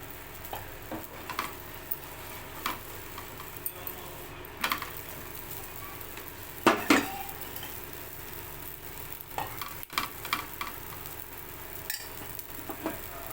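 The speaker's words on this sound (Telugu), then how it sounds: "ఇక్కడైతే రెండు వైపులా అయితే ఆయిల్ పెట్టి చపాతీ అయితే నేను కాలుస్తున్నాను" A chapati roasts on a pan with oil brushed on both sides, giving a soft continuous sizzle broken by scattered clicks and taps of a spatula, with one louder clatter midway.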